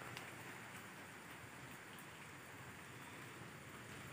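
Light drizzle falling outdoors on farmland in Indonesia, a soft, even patter of raindrops holding steady and faint throughout, with no voices.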